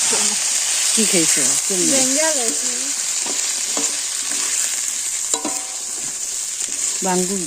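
Fish and potatoes sizzle loudly in a pan of sautéed spice paste, a constant bright frying hiss under a voice talking near the start and again toward the end.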